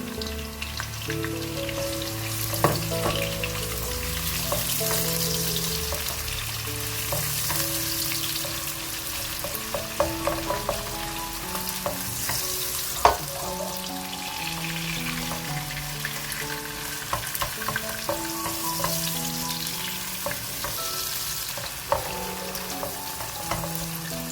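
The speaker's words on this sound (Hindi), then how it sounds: "ऑयल कुछ गर्म हो गया, अब इसमें हम प्याज ऐड कर देते हैं ताकि प्याज फ्राई होना शुरू हो जाए।" Onions frying in hot oil for a bhindi gosht masala, a steady crackling sizzle with scattered pops and stirring scrapes, close and continuous throughout, with no talk.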